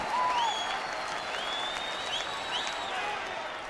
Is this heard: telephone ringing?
no